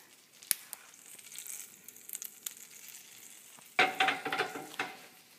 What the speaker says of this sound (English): Shake that butter around.